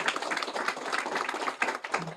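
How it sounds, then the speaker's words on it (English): Audience clapping at an island conservation corps season launch event on Guam, honoring event partners; dense, steady applause of many hands throughout, fairly close and even in loudness. "Let's get a round of applause one more time, please, for all of our partners."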